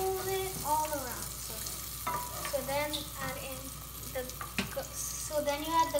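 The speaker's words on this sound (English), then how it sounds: "the oil is sizzling" Oil sizzles and crackles in a frying pan as liver for a Caribbean curry is stirred, with a continuous close hiss and irregular scraping stir sounds, while a voice speaks intermittently over it.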